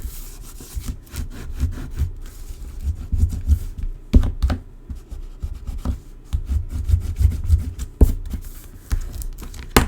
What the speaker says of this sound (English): just going to give that a good burnish down.